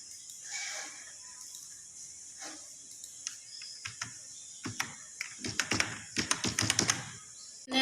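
Bursts of key clicks on a computer keyboard, sparse at first then quickening into a rapid, close run of taps near the end, with no voices.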